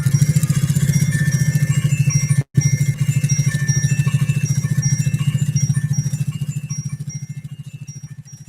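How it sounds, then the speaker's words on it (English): A Pfaff 130-6 sewing machine stitches through leather with a fast, steady mechanical chatter and a strong low hum, close up, broken by one brief pause before running on evenly. "it's so much fun to sew on leather like this and just lay down the stitching"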